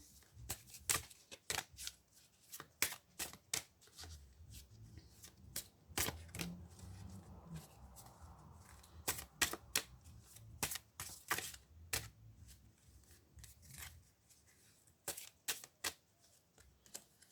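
Tarot cards are shuffled and drawn at close range, heard as quiet, uneven bursts of crisp riffling and snapping with brief pauses, and faint low murmuring in the background.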